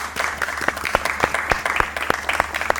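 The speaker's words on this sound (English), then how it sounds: "A round of applause for all of our Year 6 prize winners." Audience applause at a school speech day for Year 6 prize winners, a steady crowd of hands clapping with sharp individual claps standing out throughout.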